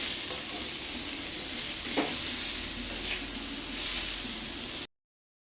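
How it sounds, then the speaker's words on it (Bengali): Chopped onions fry in a pan for prawn pulao, giving a steady close sizzle with a few brief stirring scrapes and clinks throughout. "পেঁয়াজ কুচি দিয়ে দিচ্ছি ভালো করে একটু ভেজে নেব এখন"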